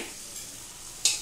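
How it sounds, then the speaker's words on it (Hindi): Soaked chickpeas and their tea-tinted cooking water go into a pan of frying masala for chana chole, a soft steady sizzle broken near the end by a brief, sharp splash. "हम इसमें चना को पानी के साथ में छोड़ देंगे"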